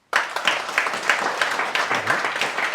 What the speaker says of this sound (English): Ricky's going to join us with the live audience behind us. Who are going to give us a nice big clap.